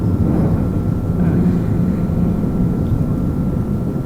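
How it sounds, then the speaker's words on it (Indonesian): An airplane drones by overhead in the background, a steady, fairly loud low roar that holds evenly from start to finish without speech. "Di background juga pesawat lewat."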